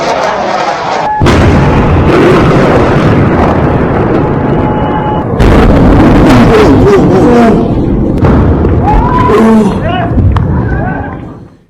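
Missile strikes on Tehran, the Iranian capital, produce loud, heavy booming blasts and rumbling that run continuously. Overlapping voices are heard beneath the explosions.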